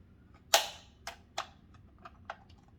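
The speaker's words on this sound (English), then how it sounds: "I think you'll hear this clicking sound" Several sharp mechanical clicks from the locking mechanism of a Rotimatic ZMA0111A roti maker's removable parts, one loud snap followed by quieter ticks at irregular intervals, close by against faint background noise.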